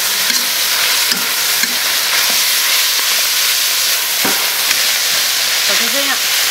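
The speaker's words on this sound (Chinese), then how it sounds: "来炒一下" Beef with chopped chili and chuanxiong being stir-fried in a wok, a steady loud sizzle and hiss with occasional scrapes and clinks of the spatula throughout.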